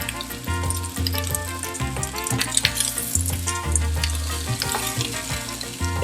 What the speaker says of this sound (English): we're going to cook these onions down for probably around 5 minutes until they start to get soft